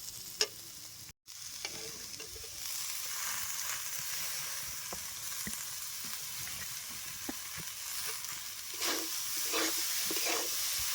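Washed puffed rice goes into a pan of frying potatoes and beans, bringing a steady hissing sizzle with stirring scrapes. A brief click and a short drop come near the start, and then the sizzle grows and holds.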